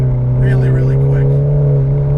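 A 400 HP stage 3 tuned VW Mk7 GTI held at full throttle on a race track, its engine giving a loud, steady drone with strong harmonics that hold without a break for the whole stretch.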